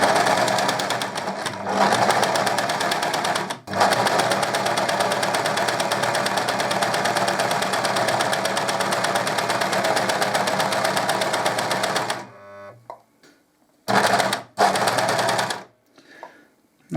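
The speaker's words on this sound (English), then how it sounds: "You'll see the blade cut the fabric even, and away we go, nice and gentle." A Singer 14SH754 overlocker stitches and trims fabric with its blade, a steady, loud mechanical whirr running unbroken for about twelve seconds, then stopping and restarting in two short bursts.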